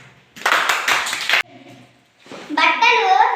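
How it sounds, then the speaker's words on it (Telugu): Children clapping together at a school science fair, a short burst of quick rhythmic claps, then a pause followed by a voice speaking. "మళ్ళా క్లాప్స్."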